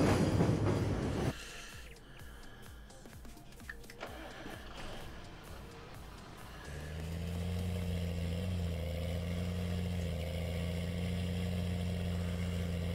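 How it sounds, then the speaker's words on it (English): Train in a farming simulator game, a loud clattering start that settles into a steady mechanical hum with strong low droning tones, continuous and fairly close. "That's a noisy train."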